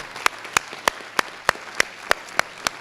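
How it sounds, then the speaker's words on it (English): At a 2018 city council forum, slow, evenly spaced claps ring out, about three per second, sharp and close, with no talking over them. "Would you like to clap for everybody?"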